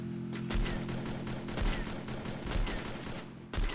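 Rapid bursts of gunfire in a Free Fire battle royale match, sniper shots among them, cracking out in a dense, repeated volley at close range with a few sharper single reports.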